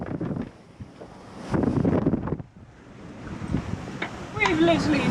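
Strong sea wind of about 20 knots buffets a microphone aboard a heeling sailboat in bursts of loud, gusting roar, with rushing water beneath and people talking over it.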